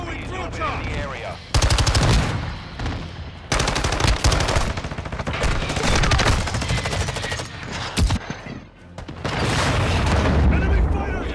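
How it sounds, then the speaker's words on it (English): Heavy Modern Warfare 2 combat: loud bursts of automatic gunfire interspersed with booming explosions, starting and stopping abruptly in intense clusters, with shouted radio-style voice callouts underneath. "Enemy fire!"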